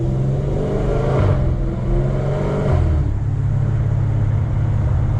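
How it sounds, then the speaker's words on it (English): A Dodge Challenger ScatPack fitted with long tube headers accelerates hard, its loud, deep exhaust roar building and swelling close by with no talking over it. "Nice acceleration there."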